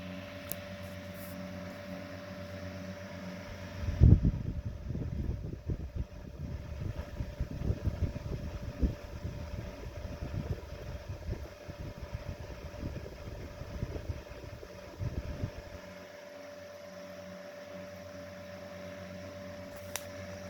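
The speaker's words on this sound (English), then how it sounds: "It's got that cool GE whine sound to it as well." A restored 1920s GE 8-inch stationary desk fan runs at its single speed, giving a quiet, steady motor whine over a soft rush of moving air that swells and then settles.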